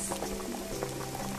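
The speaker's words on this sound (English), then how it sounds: "Pour all the hot liquid in the first frothing pot" Hot liquid poured into a frothing pot while making xec and chuckwa' in a VR cooking game, a close, bubbling, gurgling pour with fizzing splashes throughout.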